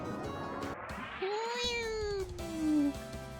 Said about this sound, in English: A cat? I think a cat's been falling within the palace.